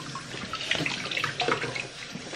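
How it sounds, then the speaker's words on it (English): Tap water running over carrots being washed in a sink, a close, steady splashing stream with small bursts of spatter as the carrots are turned under it. "let's wash the carrots very well"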